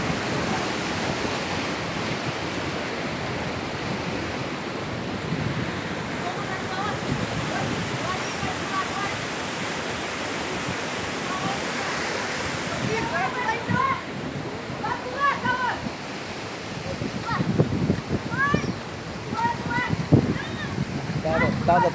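Waterfall at Corocochó in Piabetá, Rio de Janeiro, gives a steady wash of rushing water close by, with children's voices and splashing from kids bathing growing livelier toward the end, and people talking over it.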